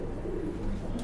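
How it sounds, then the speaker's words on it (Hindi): Male racing pigeons kept by a fancier cooing in their loft, a soft low murmuring coo close by under steady background noise, with no talking. "तो ये हैं भाई सारे के सारे कबूतर जो अभी उड़ रहे थे"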